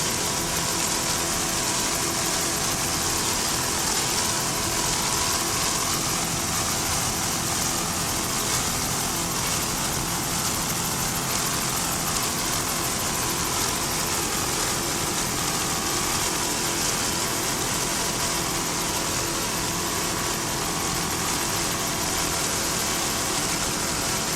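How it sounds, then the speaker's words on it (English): A 33-foot Phantom offshore racing powerboat at a 1999 Fort Myers race, its engine giving a steady, loud, unbroken rumble that idles throughout with no voices. "Will Smith, Trip Carter, and Andrew Moon aboard this 33-foot Phantom Able Towing Racing in fourth place in Factory 2."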